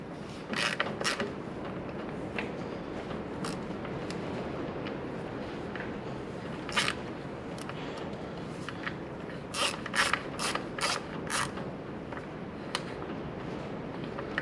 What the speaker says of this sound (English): So yeah, I'll go ahead and get the valve cover off.